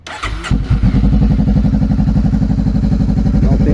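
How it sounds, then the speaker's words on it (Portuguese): A cold 2014 Honda CB500F with freshly changed oil cranks briefly and fires up, then settles into a loud, steady, evenly pulsing idle up close, with no talking. "Ligar aqui agora para ver o barulho do motor."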